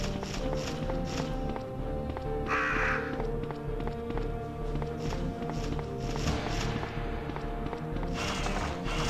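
Crows caw in the Extreme Battle Mode game, short harsh calls repeating over a busy backdrop of footstep-like thuds and game music that runs throughout.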